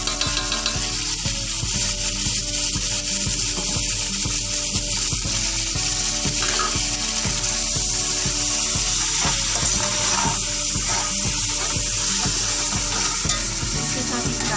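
Ginger fries with softened, lightly browned onions in a pan for chicken biryani, giving a dense, unbroken sizzle with a quick rhythmic clatter of stirring running throughout.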